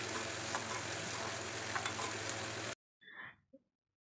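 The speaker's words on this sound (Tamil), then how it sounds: "நான் இதை ஃப்ரை பண்ணிவிட்டு லாஸ்ட்டாக காட்டுறேன்." Onions frying in a pan for Ambur-style chicken biryani made with seeraga samba rice, a steady even sizzle that cuts off abruptly, followed by a couple of faint clicks in near silence.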